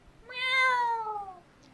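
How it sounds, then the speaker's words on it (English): One clear, drawn-out cat meow played as a sound effect on a comedy show stage to signal a comedian's minute is up, loud and alone. "They know that their minute's up when they hear the sound of a kitty."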